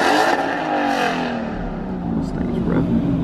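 A car engine revs loudly and close at a late-night local car meet, its pitch rising and falling in a sustained roar with a voice speaking over it.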